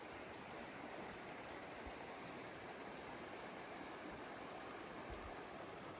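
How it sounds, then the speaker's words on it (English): A big river rushes steadily in a wide, even wash of flowing water, constant and fairly close, with no voices over it. "That's a big old river, you know what I mean?"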